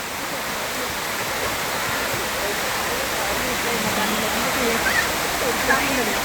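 A waterfall roars as a steady, dense wash of falling water, loud and continuous, with faint voices in the background.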